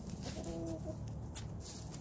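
Chickens cluck and murmur in a backyard flock, soft and close against a steady hiss of outdoor background noise, with a brief higher call partway through.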